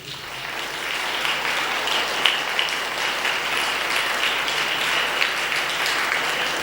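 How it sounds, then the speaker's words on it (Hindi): A church congregation at a Sunday service applauding, a dense, continuous roar of many hands clapping together in a large room, steady and loud throughout. "जोरदार ताली परमेश्वर के लिए।"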